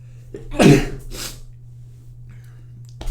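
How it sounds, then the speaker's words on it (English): A single sharp sneeze bursts out close to the mic, followed by a quieter breathy aftershock, then near silence over a steady low electrical hum. "I gotta sneeze again."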